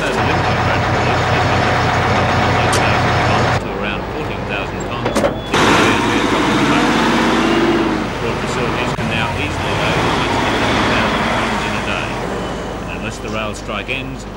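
Heavy coal-hauling trucks roll along a road in 1983, a loud, sustained engine and tyre rumble with gear changes, continuing under a voice talking throughout.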